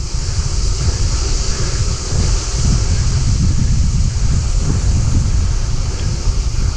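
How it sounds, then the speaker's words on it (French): Strong wind buffets a microphone on an outdoor walk between Tarascon castle and Beaucaire fortress, a loud, continuous low rumbling roar with gusty surges, no talking. "Voilà, le vent, j'espère que ça vous cassera pas trop les oreilles."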